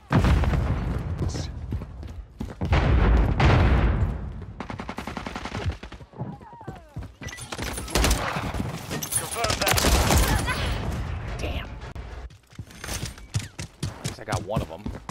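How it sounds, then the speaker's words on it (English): An enemy remote turret fires in a multiplayer shooter: dense bursts of rapid automatic gunfire and booming impacts pour out almost continuously, loud and close, with voices talking over the battle. "Okay, that has got to be an enemy remote turret."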